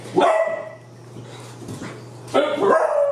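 A dog gives two short, loud barks with a gap between them, over a low steady hum.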